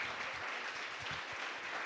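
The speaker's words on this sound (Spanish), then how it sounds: "Pues apláudanle ahora al Señor" Church congregation applauding together, a steady, dense wash of clapping that fills the whole moment without pause, with no voices standing out.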